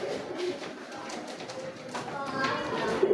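A pair of rare pigeons coo softly at close range, with low rolling calls under a faint voice and light background noise.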